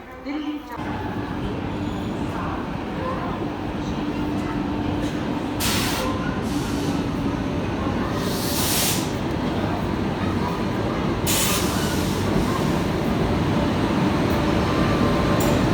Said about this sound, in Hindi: अपनी कुंभ एक्सप्रेस प्लेटफॉर्म नंबर 4 पे अराइवल कर रही है हरिद्वार के